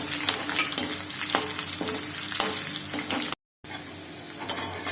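Green chillies and curry leaves sizzle steadily in hot oil with occasional stirring scrapes, loud and close, with a brief silent gap.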